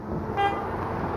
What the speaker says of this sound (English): somebody had to honk